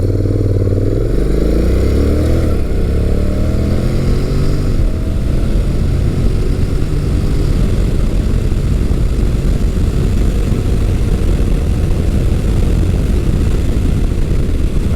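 An adventure motorcycle in sport mode accelerates hard, its engine note climbing through rising revs and gear changes before settling into a loud, constant roar with rushing wind noise.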